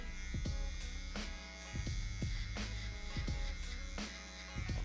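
An electric shaver buzzes steadily and close during a low skin fade haircut, its whine dipping and returning in short passes as it is lifted and set back against the head, with no talking.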